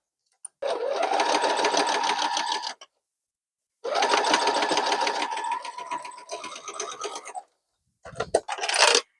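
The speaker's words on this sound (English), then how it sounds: "I am just going to stitch along here" Stitching quilt block pieces, a sewing machine hums in two clear runs separated by a short pause, close and even, with some handling noise at the end and no talk.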